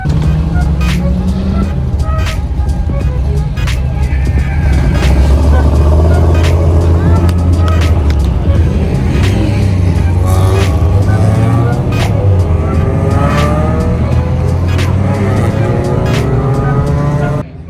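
A Toyota Corolla race car at the Thunder Hill track idles and revs loudly up close, its engine droning steadily with rising and falling tones, and people talk over it.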